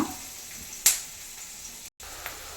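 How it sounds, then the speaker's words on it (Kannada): Chopped onion roasts in a pan for upma, making a soft, steady sizzle broken by one sharp click from stirring and a brief dropout. "ಈರುಳ್ಳಿ ಚೆನ್ನಾಗಿ ರೋಸ್ಟ್ ಆಗಬೇಕು"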